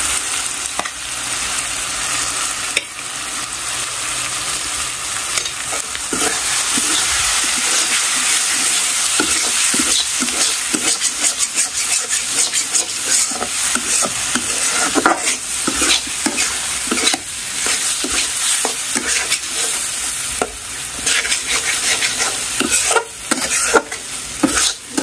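Potatoes sizzle and fry in a pan of cooked spice masala, a loud continuous hiss broken by repeated scraping and clattering stirs, with no voices.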